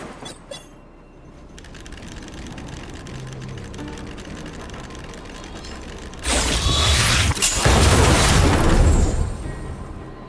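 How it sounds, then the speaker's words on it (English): A game explosion in Honkai: Star Rail starts after a stretch of mechanical whirring and clicking, then a loud, broad rumbling blast that lasts several seconds before fading. "We wiped them all out in a single explosion!"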